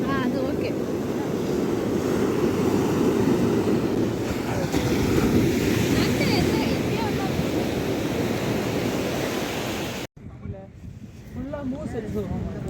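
Strong wind roars and buffets the microphone over crashing surf on an ECR beach, a steady heavy rush that drops off abruptly near the end.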